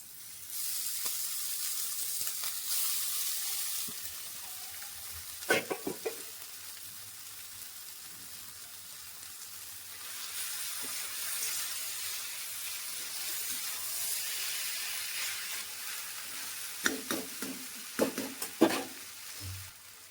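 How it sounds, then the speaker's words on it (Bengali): Maggi noodles cooking with egg sizzle in a pan, a quiet hiss that rises and falls, broken by a few sharp clanks and scrapes from the stirring utensil, with no voices. "এবারে যে ম্যাগিটা আছে এটা দিয়ে দেবো"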